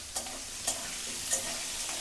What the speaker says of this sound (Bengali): লবণ দিয়ে খালি কষিয়ে নিতে হবে সুন্দর করে।